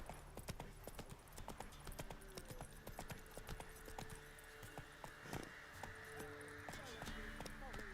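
Roach the horse trotting in The Witcher 3, a quick, steady clip-clop of hooves with jangling tack, close and continuous, with voices talking over it.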